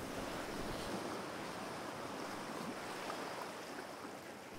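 Sea waves and wind roar steadily around the sailing ship Vasa out on the Irish Sea, a dense continuous wash of surf and gusting air, loud and close, with no voices.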